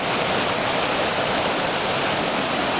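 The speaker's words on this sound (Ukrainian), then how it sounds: "Місто Міжіренці водоспад." Steady, dense roar of a mountain waterfall near a small stream in the Chornohora range of the Carpathians, close and continuous without pause.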